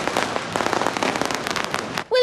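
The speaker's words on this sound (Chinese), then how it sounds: "将有200多座的炮城，60几万发的风炮" Yanshui beehive fireworks at the Lantern Festival go off as a dense, rapid barrage of crackling rocket bursts, loud and close, packed together without pause before stopping abruptly as a voice starts.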